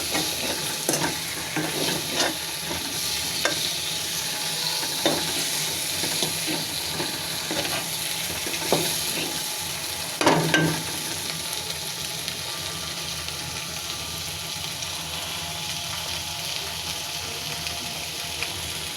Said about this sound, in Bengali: মশলার ভিতরে মাছগুলো ভাজা করে নিব।